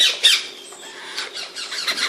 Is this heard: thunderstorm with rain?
no